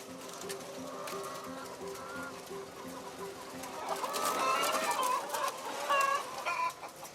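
Caged chickens packed thirteen to the square metre in an intensive poultry shed cluck and call continuously, a dense flock murmur that swells louder and busier in the second half.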